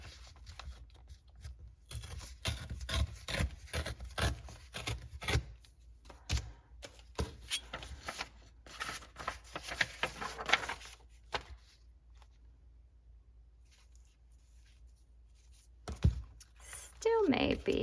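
Paper pieces for a handmade Mother's Day junk journal are trimmed by hand, giving close, irregular cutting and rustling sounds in uneven bursts with short pauses, and the work gets louder toward the end.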